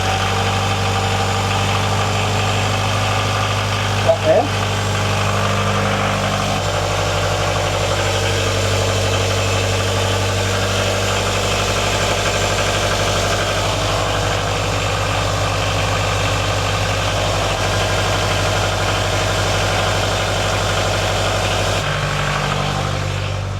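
A boat engine idles steadily at 1,500 rpm with a constant, loud rumble, a brief clunk partway through, with no voices.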